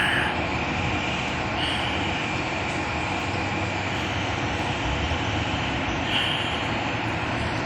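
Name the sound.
Long Island Rail Road M9 train passing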